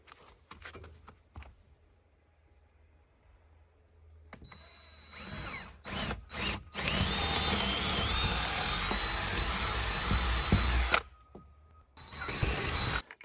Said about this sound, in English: And then we'll drill out that hole.